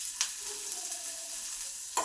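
Chopped green chillies fry in hot oil with black cumin and black mustard seeds, producing a soft steady hiss with a couple of sharp clicks, close by and without speech.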